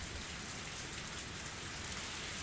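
Steady rain pours down in a sound effect from the Higurashi visual novel, a dense, even hiss of falling water with no break or voice, filling the whole stretch at a constant moderate level.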